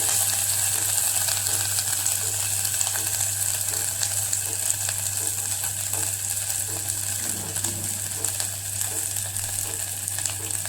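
Curry leaves, asafoetida, turmeric, garlic and green chilli roast in hot oil for Maharashtrian kadhi, giving a loud, continuous crackling sizzle with a steady low hum underneath and no talk.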